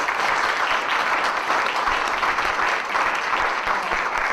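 Steady, dense applause from an audience welcoming a speaker onto a stage at a corporate talk, sustained and even throughout with no voices standing out.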